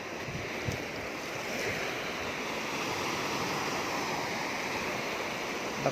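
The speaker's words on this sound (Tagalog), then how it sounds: "Lakas ng alon ha." Strong sea waves break along a rocky shore in steady, dense surf roar, with wind buffeting the microphone through the whole stretch and no voices.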